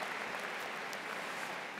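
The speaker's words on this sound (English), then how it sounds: "Give yourselves another round of applause." A burst of steady crowd applause at a university commencement, dense and even, with no voices over it.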